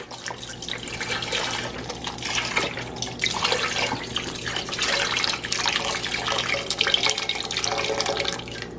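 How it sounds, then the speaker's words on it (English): Vegetable broth poured into a pot while making Southern black-eyed peas, a steady liquid splashing and trickling sound that runs continuously, close and fairly soft, with no talking. "Pour some vegetable broth in there."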